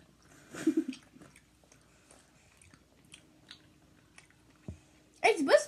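Someone crunches a sugar-coated Japanese candy in short, close bursts of biting and chewing, spaced between quiet pauses, with people speaking around it.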